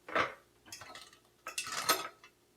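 Sausage balls are flipped in a pan, with a few close metallic scrapes and clinks of a utensil against the pan coming in short separate bursts, and no talking.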